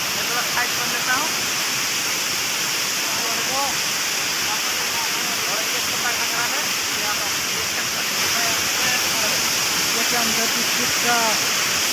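Sana Ghagara waterfall in Keonjhar roars as a constant, loud rush of falling water throughout, with voices chattering faintly underneath.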